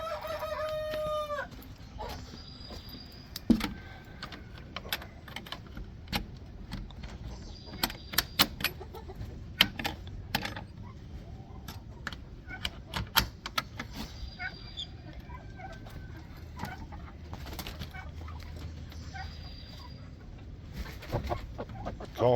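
Chickens cluck and squawk intermittently at moderate distance, with a rooster crowing early on and scattered sharp clicks and rustles in between.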